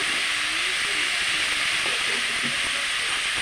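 Onions cook with turmeric and salt in a hot pan, a steady, bright hiss and sizzle of steam running continuously at moderate level with faint crackles, no talking.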